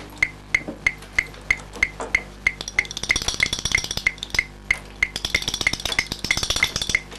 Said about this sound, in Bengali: একটি চাবি নিয়ে প্রত্যেকটি তালায় উনি চেষ্টা করে চলেছেন